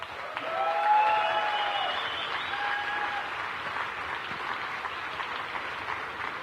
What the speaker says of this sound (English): Big applause for you guys